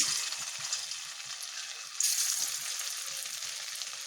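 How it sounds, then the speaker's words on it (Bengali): Paneer frying in oil in a wok, a dense, steady bright sizzle that jumps louder halfway through as more pieces hit the oil, running continuously without speech. "কড়াতে একটু তেল দিয়ে নিয়েছি এবার আমি পনিরগুলোকে ভেজে নেব"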